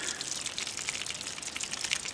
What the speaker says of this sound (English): These holes allow the water to come out the bottom.